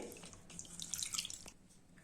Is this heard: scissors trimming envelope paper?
no